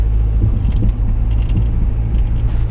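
A car rattles with a knocking from its front end while being driven, quick irregular taps over a heavy low cabin rumble and road drone, close and continuous, with no speech.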